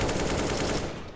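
Rapid burst of automatic gunfire in the game CS:GO, loud and continuous for about a second, close up with no talk over it.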